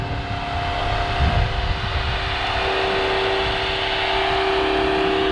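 A Mercedes-Benz W124 230E engine runs steadily up close with a broad, constant roar and a slight swell in its note, no voices over it.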